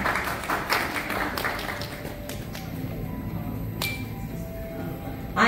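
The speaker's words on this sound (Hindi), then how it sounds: "तालियां बजती रहनी चाहिए, ladies and gentlemen" An awards-ceremony audience applauding a women-empowerment honoree: a burst of clapping that fades into a softer patter, with a few clinks and some room murmur underneath.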